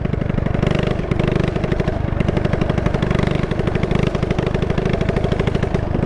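A Honda dirt bike converted into a three-wheeler runs hard on nitrous, its engine producing a loud, continuous, rapid buzzing rattle close by with no let-up throughout.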